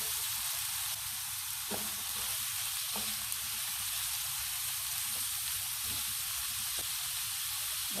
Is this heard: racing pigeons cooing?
no